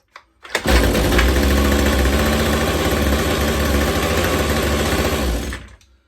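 McCulloch B26 petrol strimmer engine firing up after a couple of quick pulls, then running at a steady idle for several seconds before cutting out abruptly.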